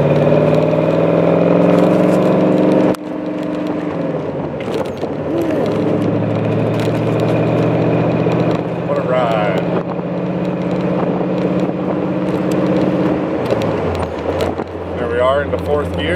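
A low, steady engine drone from a V8-swapped Jeep CJ7 cruising down the highway, with wind noise and a brief drop near the start as it shifts into fourth gear.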